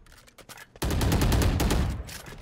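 A burst of rapid automatic gunfire from a weapon in the shooter game Valorant erupts after a brief quieter moment, then rattles loud and close for over a second before tailing off.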